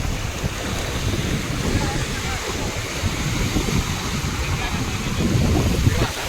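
Ocean water rushes and surges steadily onto a beach in Mumbai with a low, rumbling wash, buffeted by wind noise across the microphone.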